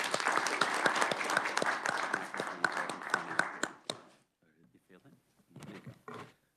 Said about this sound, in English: we congratulate you with a round of applause as well